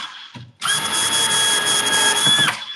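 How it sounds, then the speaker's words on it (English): Close-up whir of a compact Milwaukee cabinet drill: a brief tap on the trigger, then a loud, even motor whine held for about two seconds before it winds down. There is no speech over it. "a perfect little cabinet drill"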